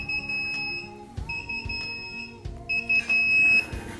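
Incubator alarm beeps in repeated bursts of high steady tones, loud and close, with clicks and small clatter between them and no talking.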